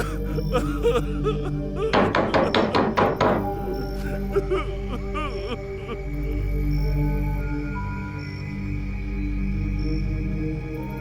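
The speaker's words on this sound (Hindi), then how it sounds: "कोई जवाब न पाकर उसने दरवाजे को जोर जोर से पीटना शुरू कर दिया।" Heavy fists pound on a wooden room door in a Hindi audio drama: a fast burst of about six loud, close thuds, followed by quieter scattered knocks over a steady background bed.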